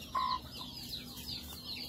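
Chicks and chickens give one brief cluck near the start, followed by faint, scattered high peeps over a quiet background.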